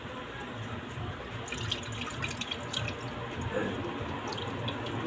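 Tap water runs steadily into a sink while a milkfish is rinsed for sinigang, a continuous splashing wash with faint dripping accents and no talk over it.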